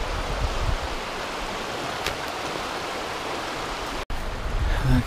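Bear Creek flowing near its confluence with Little Bear, a steady broadband rush of moving water close by, continuous and even, with a brief dropout near the end.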